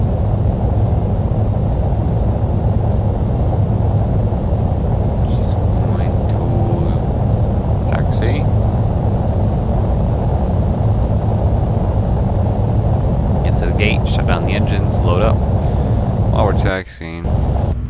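A US Airways airliner taxis, heard from inside the cockpit as a loud, steady engine and airflow roar that runs throughout, with a few faint clicks and a brief dip near the end.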